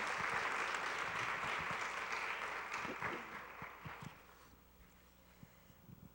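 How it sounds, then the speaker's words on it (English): Applause from the audience at a high school international academy graduation ceremony, a broad sustained clapping that tapers off around four seconds, leaving a few isolated claps in a quiet hall. "Give them another round of applause."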